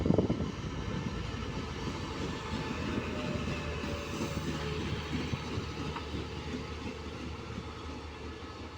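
A QSY locomotive, number 5241, hauls fourteen CNR passenger cars on a test run, making a loud, continuous rumble and rolling roar with faint clacking wheels as it passes nearby.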